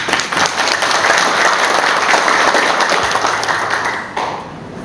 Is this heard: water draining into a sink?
no